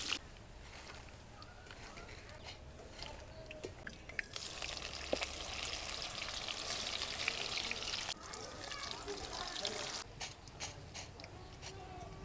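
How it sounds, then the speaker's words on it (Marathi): Soybeans frying in hot oil give a faint, steady bubbling sizzle with occasional clinks and scrapes. The frying swells louder partway through and stays low-level and close. "अशाच पद्धतीने आपल्याला सगळी सोयाबीन तळून घ्यायची अगोदर"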